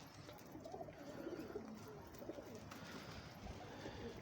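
Soft, low cooing of domestic pigeons repeats throughout, faint and a little distant over a quiet outdoor hum.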